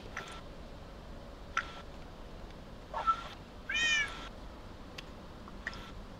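A cat meows in a short, rising call, a couple of faint chirps around it, set against a steady low background hum; the sound comes during a Minecraft session.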